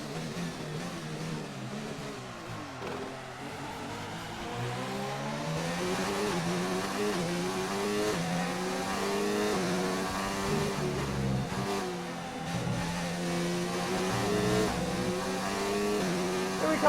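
Formula 1 race car engines scream through a Chinese Grand Prix lap in an F1 racing game, steady high-revving whine with rising and falling gear shifts, sustained and fairly close throughout.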